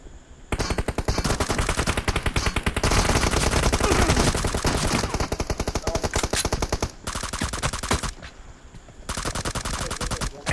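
M416 rifle gunfire in a 2 vs 2 team deathmatch video game comes in long, rapid, loud automatic bursts with a brief pause between them, close and without talk.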